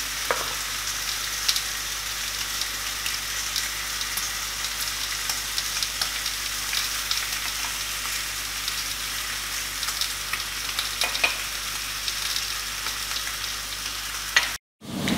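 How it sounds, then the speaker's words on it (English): Mushrooms fry in oil over medium-high heat with a continuous, fairly loud sizzle and occasional stirring noises, cutting off abruptly at the very end. "I can cook the mushroom as well."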